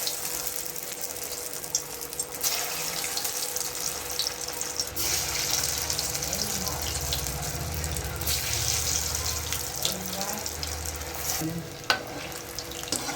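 Soya chunk meal maker balls dropped into hot oil sizzle and fry steadily in a pan, a constant close crackling hiss with a few faint clinks and low background murmur.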